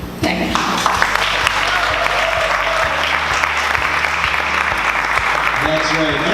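An audience applauds at an NGO presentation for a disaster fund in 2019, loud sustained clapping from a full room lasting several seconds, with a voice speaking briefly over it.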